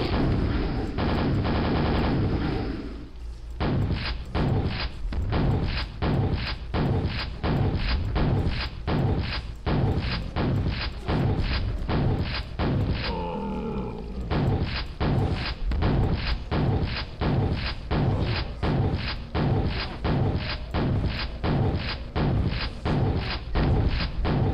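Rapid, relentless weapon fire from a shotgun and nail gun in the PC DOS shooter Quake during the final boss fight: loud regular bursts pounding every half second or so, with a brief pause partway through.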